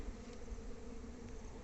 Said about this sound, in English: This particular set of bees have actually colonized the box over there.